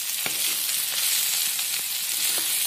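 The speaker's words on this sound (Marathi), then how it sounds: "तेला छान परतून घ्यायचे वांगे सगळीकडून" Eggplant sautéing in oil in a pan, giving a soft, even hiss of frying with a few faint taps of stirring, close and steady, no talking.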